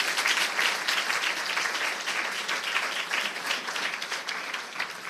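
Congregation clapping for the Lord at a Hindi-language church sermon, a full, steady wave of applause that stays strong and slowly eases toward the end.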